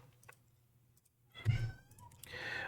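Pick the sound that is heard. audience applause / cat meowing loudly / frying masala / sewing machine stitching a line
cat meowing loudly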